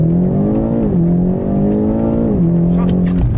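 BMW car on a driving course accelerating hard then braking, engine note rising and falling in two clear revving cycles up close, with faint voices under the engine.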